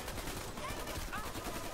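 Rapid automatic gunfire in the Dirty Bomb online shooter, a dense continuous rattle of overlapping shots filling the moment, with a voice briefly audible beneath it.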